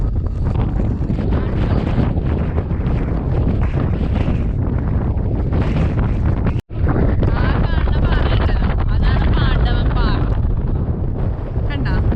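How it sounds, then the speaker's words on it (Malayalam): Strong wind roars and buffets the microphone almost without pause on a mountain trek at Agasthyarkoodam, with people talking beneath the rushing noise. "ഇവിടെ ഭയങ്കര എന്ന് വെച്ചാൽ ഭയങ്കര കാറ്റാണ്"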